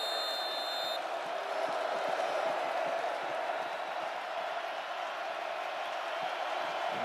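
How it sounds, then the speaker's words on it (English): Football stadium crowd at an Indiana vs. Iowa game cheering for the Hawkeyes, a broad, steady roar that holds at an even level throughout. "And the crowd continuing to be a factor for the Hawkeyes."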